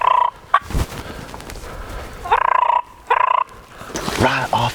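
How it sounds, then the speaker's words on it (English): Wild turkey gobblers sound off from the roost in the woods of Mississippi, several loud rattling gobbles in separate bursts, some near and some farther off, with quiet talk and rustling between them. "there's definitely more gobblers here, and there's another one back over here too"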